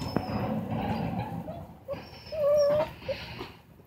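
A puppy whimpers in short, thin, high whines indoors, several soft cries scattered over a few seconds with a longer rising whine near the middle.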